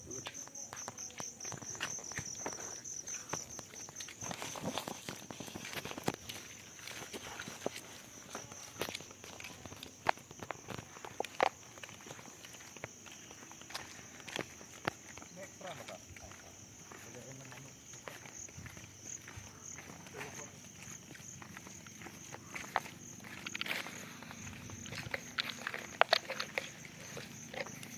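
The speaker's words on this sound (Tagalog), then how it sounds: "Lakad-lakad daw guys, tabing dagat." Footsteps crunch steadily over a loose beach surface outdoors, with a constant insect-like hiss behind them and occasional faint voices.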